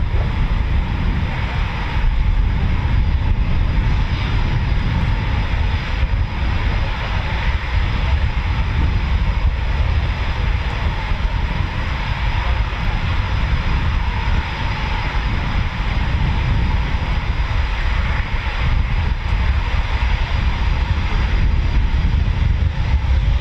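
Eurofighter Typhoon FGR4 jet engines roar at RAF Coningsby, a loud, continuous broadband rush that holds steady throughout with no breaks.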